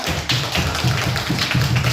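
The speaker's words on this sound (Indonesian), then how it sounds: "Mana tepuk tangannya?" Audience clapping after a call for applause for a student group at a school event, with a low, thumping rhythm of steady taps across the clip.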